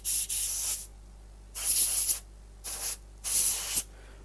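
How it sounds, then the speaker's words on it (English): An airbrush being cleaned sprays in four sharp hissing bursts, each under a second long with short silent gaps, close and loud. "my airbrush is acting up, so I have to clean it."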